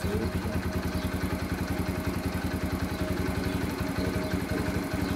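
A Yamaha XT125X single-cylinder motorcycle engine idles steadily nearby with an even, rapid thumping pulse and no voices.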